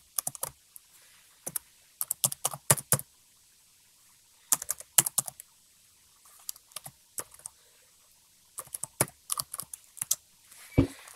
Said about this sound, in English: So then you're going to type in your product key.